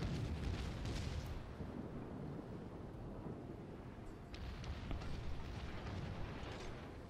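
Heavy naval gunfire from the battleship Tirpitz in the World of Warships video game, a dense, continuous rumble of booming salvos and blasts with no talking.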